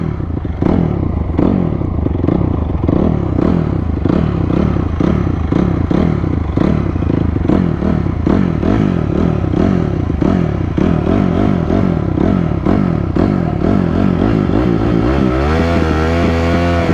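Stock Honda CRF 250R dirt bike and stock Yamaha Raptor quad engines racing side by side, loud and close, a steady rapid engine pulse throughout with rising revs and a pitch sweep near the end, no talk.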